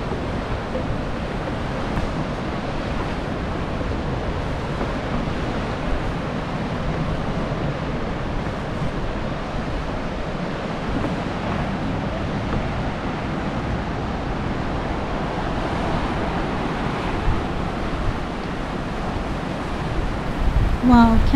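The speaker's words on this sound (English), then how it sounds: "catch those waves crashing onto those cliffs" Ocean surf breaks against steep coastal cliffs at Storms River Mouth in Tsitsikamma National Park, a steady broadband roar with heavy wind buffeting the microphone throughout, no clear individual wave impacts standing out.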